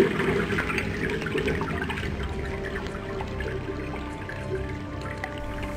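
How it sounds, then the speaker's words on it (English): Water runs steadily into a vessel, a continuous pouring and splashing sound that stays close and fairly loud for several seconds, with no one talking. "Let's fill up our vessel with water."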